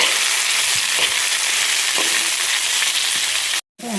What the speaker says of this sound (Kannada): ಕ್ಯಾಬೇಜ್ ಹಾಕಿಬಿಟ್ಟು ಸ್ವಲ್ಪ ಬಾಡಿಸ್ಕೊಳ್ಳೋಣ